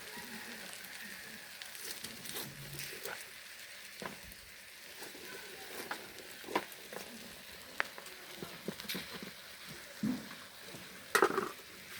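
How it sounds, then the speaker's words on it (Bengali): Onions fry lightly in a pan over a clay stove with a faint, steady sizzle, broken by scattered soft clinks and scrapes of a utensil. "পেঁয়াজগুলো একটু হালকা হালকা করে ভেজে নেবে"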